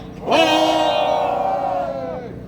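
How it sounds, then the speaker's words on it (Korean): A crowd at a Korean labour rally protesting alleged accounting fraud lets out one loud, sustained collective shout and cheer, swelling quickly and holding for about two seconds before fading. "격한 함성을 부탁드립니다"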